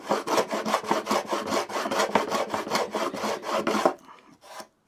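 Rhythmic rasping strokes of a router plane cutting a dado in wood, about a dozen quick close scrapes in a steady back-and-forth pattern, then a pause and one faint final stroke.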